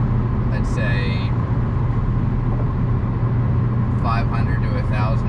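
A drift truck's engine idles in a steady low rumble with the odd slight misfire, and brief voices break in over it.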